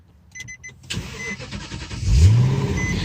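A car engine cranks and catches after a few faint clicks, then settles into a steady near idle, growing louder as it fires and holding a low rumble.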